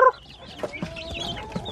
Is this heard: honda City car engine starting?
no